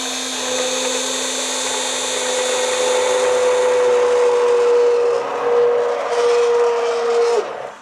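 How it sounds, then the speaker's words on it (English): A stick blender blending root vegetable and lentil soup runs loudly and steadily, its high motor whine wavering slightly as it churns, before cutting off abruptly near the end. "I've decided to use the small one instead, just the stick blender."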